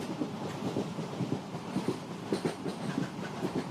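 Train rolling along rails, a steady low rumble with faint rhythmic clatter of wagons, moderately near and continuous without any voices.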